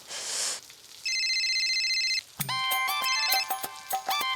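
Telephone rings in a Hindi TV comedy scene: a burst of noise, then a steady electronic ringtone repeating its tones, followed by a brighter, busier melodic ring with sharp plucked notes, fairly loud and with no talk over it.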